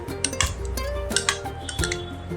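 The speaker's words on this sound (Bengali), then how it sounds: "মিষ্টি দইটাও আমি ফেটিয়ে নিচ্ছি" Sweet curd (mishti doi) whisked in a bowl with a metal utensil, giving rapid, uneven clinks and taps against the bowl, close and fairly clear, with no talking.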